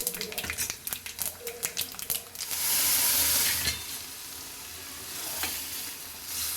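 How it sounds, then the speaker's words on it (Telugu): Tempering spices sputter in hot oil in a pan, starting with a rapid run of sharp crackles and pops. A loud, steady hiss follows and slowly fades, with a few faint clicks near the end. "ఇదిగోనండి మనకి పోపు అయితే మంచిగా ఎగింది"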